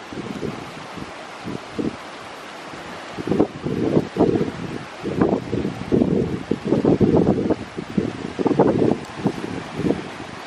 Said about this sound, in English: It's really windy out here, right on the coast.